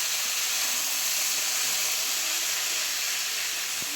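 Potatoes frying in a small amount of oil, a dense, even hiss and sizzle held at constant loudness from start to finish, with no voices.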